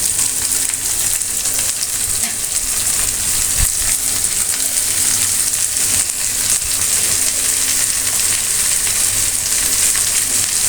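Chopped snake gourd fries in a pan for a bhaji, making a loud, steady, close sizzle that keeps up without a break and has no voices over it.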